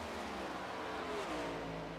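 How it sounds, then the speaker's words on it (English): A race car engine drones in the NASCAR iRacing video game at Indianapolis, a loud, steady high-revving roar that holds without a break. "here comes another car on the racetrack"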